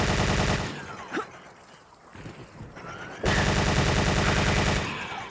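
Gatling gun fire from the video game Resident Evil 3: Nemesis, loud sustained rapid bursts near the start and again after a short pause, with a quieter gap of clatter and impacts between.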